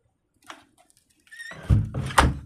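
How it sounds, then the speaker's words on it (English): A room door is pushed shut, giving a couple of heavy thumps and a rattle that sound close and loud after a few quiet, faint shuffles. "Let me shut this door."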